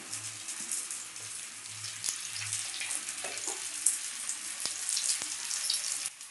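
Vada frying in hot oil, a steady faint sizzle and crackle with scattered small pops, heard alone without talk.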